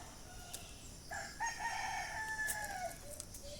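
Breeder chickens give a single drawn-out, crow-like call lasting a couple of seconds, moderately faint over steady farmyard background hiss.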